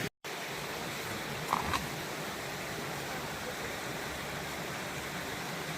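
A small river on the Camino Francés path rushes in a steady, broadband burble, close and continuous after a brief dropout at the start.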